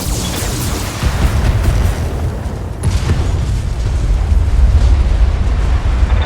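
Mech weapons fire and explode in the BattleTech video game, a loud continuous rumble of deep booms and blasts that swells and recedes, with a sharp burst near the middle and no speech over it.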